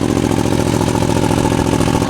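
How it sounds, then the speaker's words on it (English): An Aprilia Tuono V4 Factory motorcycle engine runs loud and close on its first start, a dense, rapid, steady rumble with a gritty mechanical clatter. "This is the first start of the Aprilia."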